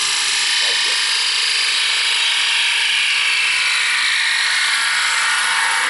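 A bowl gouge cutting across the end grain of a wooden bowl spinning on a lathe gives a steady, loud, hissing shear that runs without a break through the whole stretch, with no talk over it.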